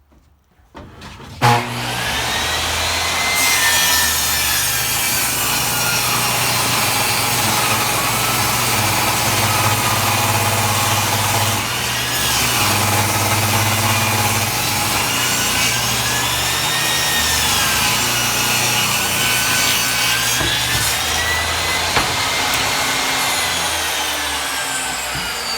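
A power saw cuts through hardwood flooring with a loud, sustained rasping whine that rises and dips slightly over about twenty-five seconds, with a motor hum underneath and no talking.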